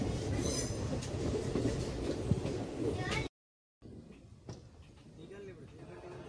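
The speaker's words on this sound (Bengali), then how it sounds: "AC local train." An AC local train runs on rails in Chennai, a close rolling rumble with wheel clatter and faint squeals, cut briefly by a gap, then continuing more quietly.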